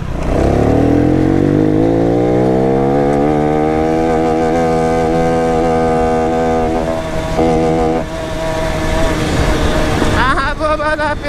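A Honda Pop 110 motorcycle engine under a rider, loud and close, revving up into a sustained rising drone that holds steady, dips briefly, then picks up again near the end.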